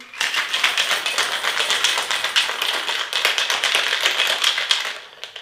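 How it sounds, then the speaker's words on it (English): A Christmas cocktail is shaken hard in a shaker, producing a dense, rapid rattle of ice against metal that goes on for about five seconds before stopping. "Now it's time to shake and serve."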